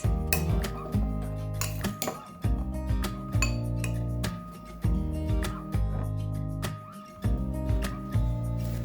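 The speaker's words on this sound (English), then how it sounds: "One cup of dried cranberries. Give it a good mix." Bread dough mixed with dried cranberries in a bowl, with repeated light clinks and scrapes of a utensil against the bowl over steady background music.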